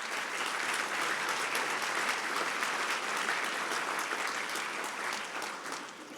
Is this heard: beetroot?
no